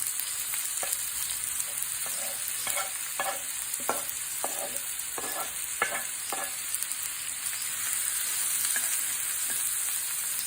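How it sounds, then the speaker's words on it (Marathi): Chopped onions fry in oil in a pan, a steady bright sizzle running throughout with soft stirring clicks and scrapes scattered over it, close and fairly even in loudness with no talking. "त्यामध्ये आता आपण हे कांदा 2 मोठे कांदे कापून घेतलेले आहेत ते टाकणार आहोत"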